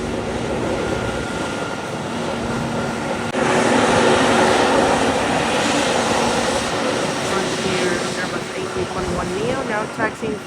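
A Frontier Airbus A321neo jet taxis for takeoff at San Juan airport, a loud, continuous engine roar and whine that swells after a few seconds and holds steady nearby.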